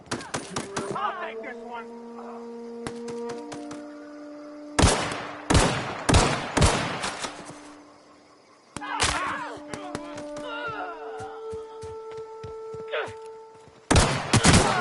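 Firefight in the video game The Outer Worlds: loud bursts of rapid gunfire come in several volleys with short pauses, layered over game music and brief spoken lines.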